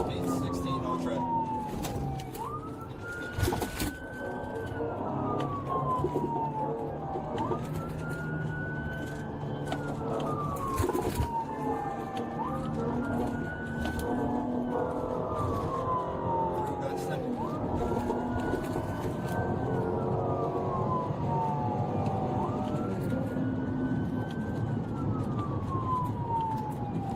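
Police car sirens wail in repeated rising and falling sweeps, about five cycles over steady road noise, with voices talking over them throughout.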